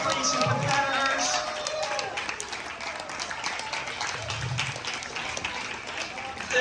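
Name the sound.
audience applause for tennis finalists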